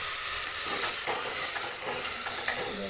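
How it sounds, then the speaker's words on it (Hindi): Tomatoes added to a hot pan along with garlic, giving a steady, close sizzling hiss with faint stirring clinks and scrapes mixed in, no talking. "मैं डाल रही हूँ टमाटर"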